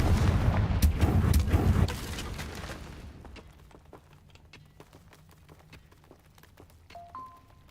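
A Confringo blasting spell in Hogwarts Legacy explodes with a loud, crackling fiery burst that rumbles for about two seconds, then fades to faint scattered crackles and small magical chimes.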